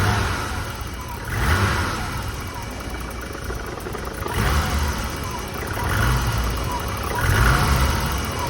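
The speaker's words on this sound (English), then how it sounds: "At least it's idling now, kind of." An abandoned classic BMW 635 CSI under restoration idles unevenly nearby, its engine rumble rising and falling in rough surges with no steady rhythm.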